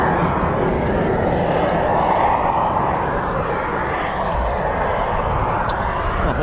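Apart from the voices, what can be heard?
Eurofighter Typhoon jet engines spooling up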